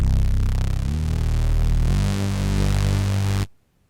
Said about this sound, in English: then scroll to the next bass sound in the list, Nasty Attitude Bass,